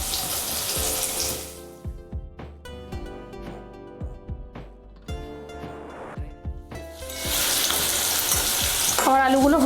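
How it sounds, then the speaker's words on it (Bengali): Potato pieces fry in hot oil and are turned until reddened, a loud sizzle broken by clattering spatula scrapes and knocks against the pan, then swelling back to a strong, continuous crackle. "তো উল্টে পাল্টে লাল করে ভেজে নেব।"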